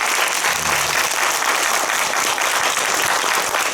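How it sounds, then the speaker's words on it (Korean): An audience at a cinematheque screening talk for the Korean film 'There Is Another Way' breaks into sustained applause, a thick, steady roar of many hands clapping that stays loud and even throughout. "박수 한번 주시죠."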